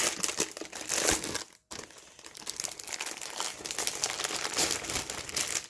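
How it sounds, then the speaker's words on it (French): Plastic packaging around a diamond painting accessory binder crinkles and rustles continuously during unboxing, loud and close, broken by one brief pause. "Donc, je vous le déballe."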